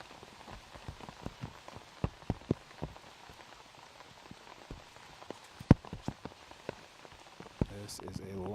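Rain falling during an outdoor disc golf round, with steady patter and scattered sharp drops striking nearby surfaces, moderately quiet and close, a few louder hits and a faint later rise in wash.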